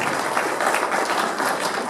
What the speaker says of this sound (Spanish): Claro, aplausos.